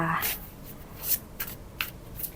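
Tarot cards are shuffled and drawn by hand in close, quiet bursts of riffling and flicking, with several short crisp snaps spread across the moment.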